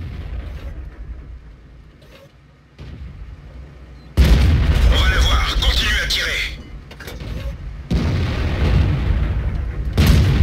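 Tank cannon shots in World of Tanks, a platoon match, come as loud booming blasts with a heavy burst near the middle and more bangs later, while players talk over the gameplay.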